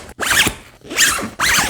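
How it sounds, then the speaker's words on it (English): Main zipper of an Aer City Pack 2 X-PAC backpack pulled in three quick, close strokes, each a bright rasping burst separated by short pauses, with no talking. "It's the main zipper that I find exquisite. I will just stop talking and you will hear the sound."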